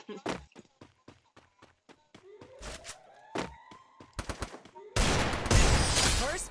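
Gunfire in a one-on-one shooting video game: rapid bursts of close, sharp shots and single cracks, then a dense loud stretch of fire near the end, with game effects in between.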